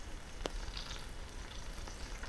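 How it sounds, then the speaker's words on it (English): A soft, steady sizzle of whitefish frying in butter in a pan, crackling faintly throughout with a small clink early on. "make sure that they're sort of coated in the butter, and then just leave them to sizzle"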